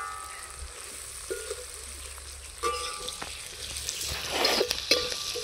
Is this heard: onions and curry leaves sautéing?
yes